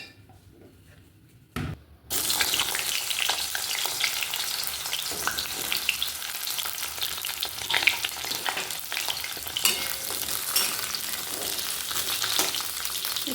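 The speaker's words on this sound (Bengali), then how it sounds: "আর ওইগুলো এই আমাদের পটল ভাজা" Pointed gourd (potol) slices fry in a pan, with a continuous loud sizzle that starts abruptly after a quiet opening and is broken by occasional crackles and stirring scrapes.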